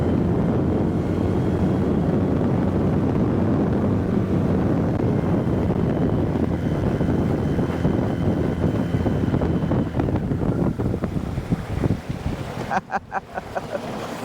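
An Alumacraft aluminum boat's outboard engine, run with a shallow water drive kicked up, drones steadily while the hull moves over water, with strong wind buffeting the microphone and a few splashing thumps near the end.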